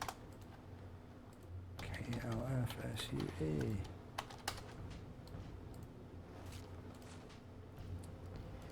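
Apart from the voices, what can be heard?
typing on a computer keyboard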